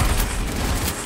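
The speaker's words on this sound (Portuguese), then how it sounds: "Granada de fragmentação!" Fragmentation grenade going off in the Paladins shooter game, a loud dense burst of explosive crackle and rumble lasting about a second.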